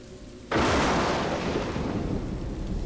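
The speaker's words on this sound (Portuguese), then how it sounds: "Tá chovendo, mano." A sudden loud thunderclap crashes in and then rolls away into steady heavy rain in the video game Road 96, close and enveloping.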